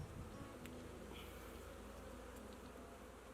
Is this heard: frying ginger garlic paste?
no